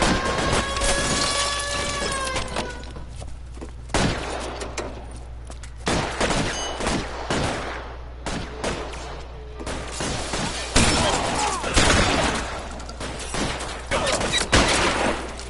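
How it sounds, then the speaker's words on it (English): Gunfire rattles through a shootout in the video game L.A. Noire, loud repeated shots and bursts crackling continuously over a dense background with tonal game sound effects, lasting the full fifteen seconds. "Oh shit, they shooting."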